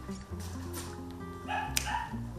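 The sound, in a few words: trained shelter dog barking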